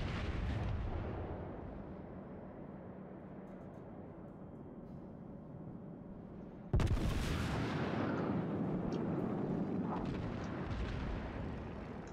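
Battleship main guns firing in World of Warships, one deep booming salvo breaking in sharply mid-clip over steady low ocean and engine rumble, loud and close, with no talking.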